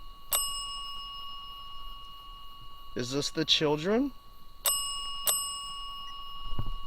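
Sharp electronic bell chimes ring out in quick pairs during a paranormal investigation, struck repeatedly and loud near the listener, with a voice speaking in the middle between the rings.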